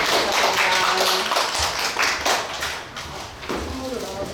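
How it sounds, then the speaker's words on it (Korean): Audience applause for a lecturer at the close of a special lecture on sustainable development politics and global citizenship, a dense, steady patter of many hands clapping with faint talk underneath. "선생님께 우리 박수 한번 드리겠습니다."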